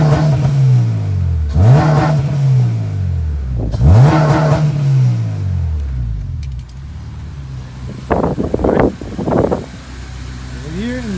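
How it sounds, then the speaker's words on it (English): An Acura TSX engine, just fitted with a new fuel rail, revs hard twice, each rev rising and falling back to idle. Shorter blips follow, loud and close, with a person speaking now and then. "now I'm gonna step on it, see how everything works"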